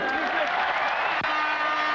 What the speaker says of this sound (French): Très applaudi par le public des Girondins de Bordeaux